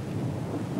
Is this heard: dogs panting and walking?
no